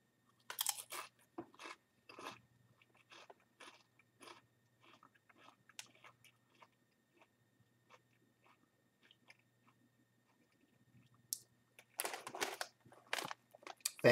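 Close crunching of Paqui Haunted Ghost Pepper tortilla chips, with sharp bite bursts at the start and a louder flurry near the end, separated by quieter chewing and no talk.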